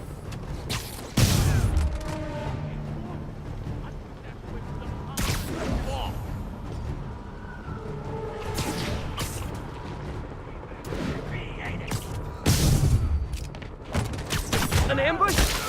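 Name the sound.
sniper rifle gunfire from escaped convicts in Spider-Man video game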